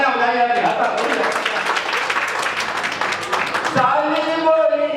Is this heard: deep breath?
no